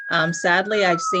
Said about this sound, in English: sorry for the sirens behind me